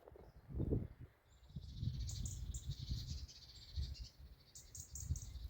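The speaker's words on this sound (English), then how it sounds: "My little bird friends are waiting for me to give them something to eat, I think." Small birds chirp in an early spring woodland in the UK, quick high twittering calls repeating softly in the distance over low rustling and footsteps.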